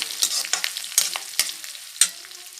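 Chopped snake gourd frying in oil in a pan, a crackling sizzle with sharp scraping strokes of a spoon as it is stirred, close and irregular.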